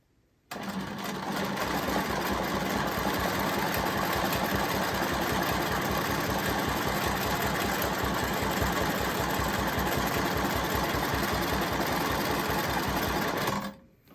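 A sewing machine quilting continuously along a ruler with a ruler foot, heard as a steady, fast, even mechanical stitching rhythm that runs unbroken for about thirteen seconds, loud and close, then stops.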